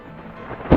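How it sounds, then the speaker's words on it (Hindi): Thunder breaks during a heavy monsoon rainstorm. A low rumble of rain builds, then a loud, sudden crack of thunder bursts in at the end. "बादल गरजे, बिजली चमके और बारिश फिर से बरस पड़ी।"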